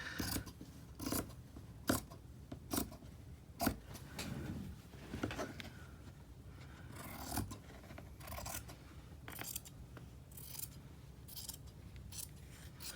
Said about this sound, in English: These are fabric scissors, by the way.